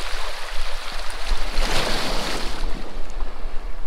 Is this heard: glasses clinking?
no